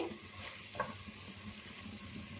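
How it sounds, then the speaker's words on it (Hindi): Spoon stirring black chana saag in a simmering pot, a soft bubbling sizzle with faint scraping and one small clink, quiet and close. "इसमें एक दफ़ा चम्मच चला लेंगे"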